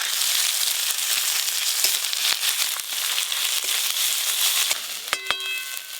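Chopped onion with black cumin and dried red chilli frying in hot mustard oil, a steady bright sizzle and crackle close up, punctuated by sharp spoon clicks against the pan and a brief ringing metallic clang near the end.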